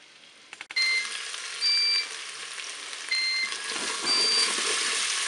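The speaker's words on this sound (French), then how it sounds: "on va continuer bien tranquillement à remuer de temps en temps pendant que nos pommes de terre sont en train de rissoler." Potatoes brown in a Cookeo multicooker with a loud, continuous sizzle. Short electronic beeps from the appliance repeat over it, and a scrape of stirring comes near the start.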